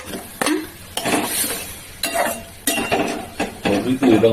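Potatoes go into a pan of cooking okra for a vegetarian curry, with a series of clinks, scrapes and splashes under a steady low sizzle.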